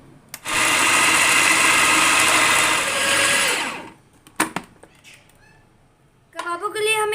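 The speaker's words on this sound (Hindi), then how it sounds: "फिर से इन सारी चीज़ों को चॉप कर लूंगी" Electric chopper mincing beef with cream and coconut powder, a loud steady motor whir lasting about three and a half seconds before stopping, followed by a few clatters and a brief shrill tail of noise near the end.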